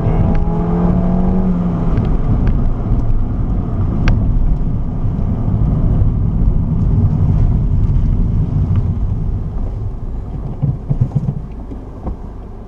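A car driving through an autocross slalom, heard as a continuous close engine drone with wind buffeting, fairly loud throughout and easing slightly near the end.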